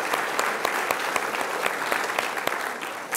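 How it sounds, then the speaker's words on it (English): An audience at a city State of the City address applauds steadily, with dense clapping and a few sharper claps standing out, loud and continuous throughout. "So let's give a big round of applause to the Main Streets."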